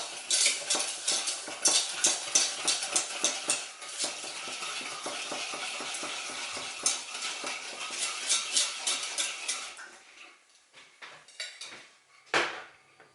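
Sugar and cold water are stirred in a pot with a utensil, giving quick, repeated scraping and clinking strokes that are close and fairly quiet. The stirring slows and thins toward the end, and no one talks.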